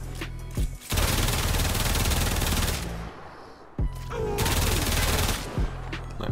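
Braton Prime rifle fire in Warframe, two long sustained automatic bursts close and loud, separated by a short pause, with brief tapped shots at the start and end and a faint voice underneath.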